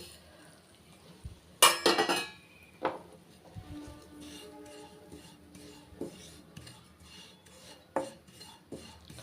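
Grated dry coconut roasting lightly in ghee in a pan is stirred with a metal spoon, giving a loud scrape and clatter at first, then softer intermittent scraping and clinks up close.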